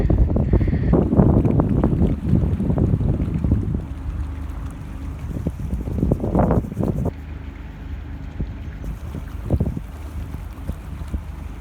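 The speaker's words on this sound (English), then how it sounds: "that's me on the boat" A tour boat engine drones steadily on Loch Lomond, with wind buffeting the microphone and water rushing past, fairly loud and continuous throughout.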